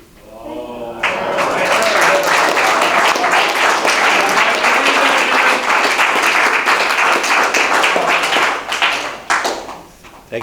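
A Toastmasters table topics audience breaks into a dense burst of clapping after a brief quiet start, sustained for about eight seconds before tapering off into a few scattered claps.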